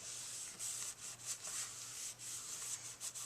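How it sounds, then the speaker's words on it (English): A folded paper card is burnished along its score line, producing a close, quiet series of short rubbing strokes in an uneven rhythm. "Give it a good burnishing"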